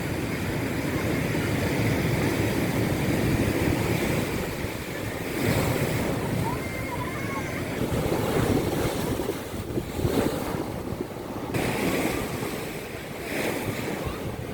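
Sea surf at Digha beach rolls in continuously, a broad steady wash of breaking waves mixed with gusting wind noise on the microphone, without any voices.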